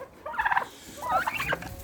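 Turkeys on a ranch gobble in two bursts of rapid, warbling calls, close and fairly loud against a quiet outdoor background.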